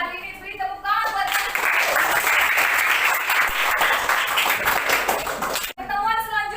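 A classroom of students claps together in a loud, dense burst of applause lasting several seconds, then it stops abruptly; a teacher's voice is heard briefly before and after.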